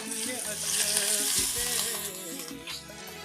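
A sesame and curry leaf chutney sautéing in a pan on the stove gives a steady, close sizzle and frying hiss with soft stirring scrapes running through it.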